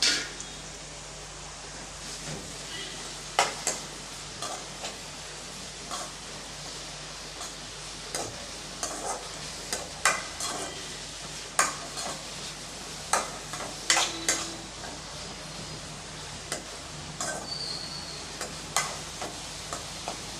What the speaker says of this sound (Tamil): வெங்காயம் நல்லா ப்ரௌன் கலர் ஆகிற வரைக்கும் நல்லா வறுத்து எடுத்துக்கலாம்